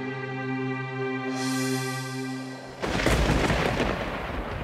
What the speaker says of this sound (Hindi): ऐसा आंधी तूफान आया जिसका शब्दों में बयान नहीं किया जा सकता।